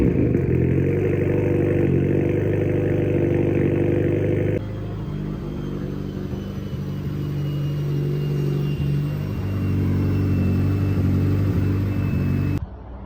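A turbocharged Mazda Miata engine runs close by with a loud, steady rumbling idle, the pitch shifting down partway through and rising slightly before cutting off near the end.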